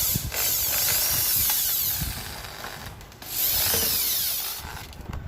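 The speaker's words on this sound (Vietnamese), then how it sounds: "dùng tua vít máy khoan này tháo cho nhanh nhé" A cordless drill screwdriver backing screws out of an air cooler's casing, two long whirring runs separated by a brief pause, close and loud with faint clicks and rattles, no talking.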